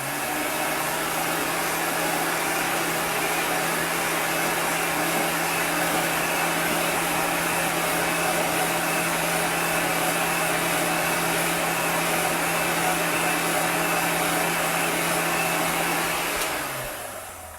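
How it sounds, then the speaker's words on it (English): Heat gun blowing hot air over green craft paint, a loud steady whooshing hum running nearly uninterrupted for over fifteen seconds before cutting off at the end. "That heat gun is very hot."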